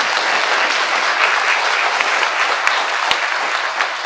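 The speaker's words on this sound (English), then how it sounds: "for everyone to give these guys a round of applause" Loud, dense applause from a town hall audience gathered for a property tax meeting, a continuous roar of clapping with a few sharper claps popping out, close and filling the whole span.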